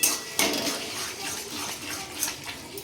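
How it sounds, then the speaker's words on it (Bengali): A metal spatula scrapes and stirs food in a wok, giving a steady close-up rasp with small metallic clinks and no talking. "এই জাস্ট কড়াইতেই খুন্তি করে দিয়ে দিই"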